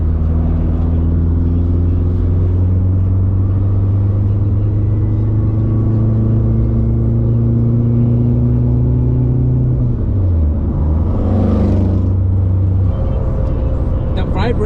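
A turbocharged 600hp K20-swapped Honda Civic converted to four-wheel drive accelerates from inside the cabin, its steady engine drone loud and continuous with a brief dip and shift near the end.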